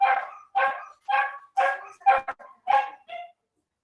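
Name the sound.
small dog barking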